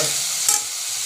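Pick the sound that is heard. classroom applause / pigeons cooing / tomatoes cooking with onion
tomatoes cooking with onion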